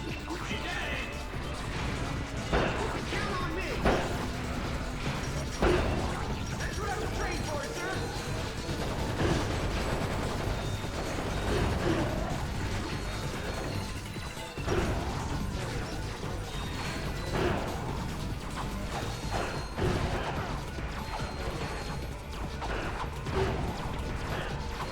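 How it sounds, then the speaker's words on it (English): Repeated wrench smacks and crashes against zombie hordes in Ratchet: Deadlocked, loud metallic hits every few seconds over a busy mechanical game din with speech-like sound mixed in. "now we're just fighting hordes of zombies with a wrench"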